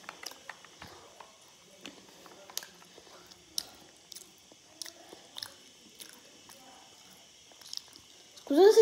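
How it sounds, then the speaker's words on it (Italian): Someone chews right beside the microphone during a Call of Duty session, making irregular wet clicks and smacks over quiet game sounds, ending with a louder burst. "Scusate se si sente che si mastica,"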